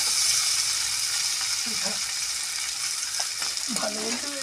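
Onions frying in melted butter, a steady close hiss of sizzling with a few faint scrapes and clinks toward the end, no voices.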